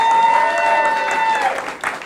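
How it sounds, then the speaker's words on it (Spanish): An audience applauds a joke told on a comedy show, a loud, dense burst of clapping lasting about two seconds with a sustained tone running underneath it. "un aplauso para el chiste de Marina"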